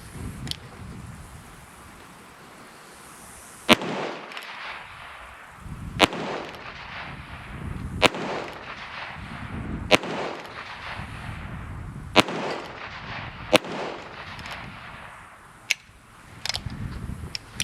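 Six loud shots from a Heritage Rough Rider single-action revolver with a 16-inch barrel, spaced about two seconds apart outdoors, each followed by a long, fading echo.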